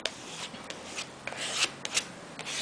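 The edge of a card scrapes across wet acrylic paint on a journal page in short, quiet rasping strokes, about eight to ten irregular scrapes up close with no voices.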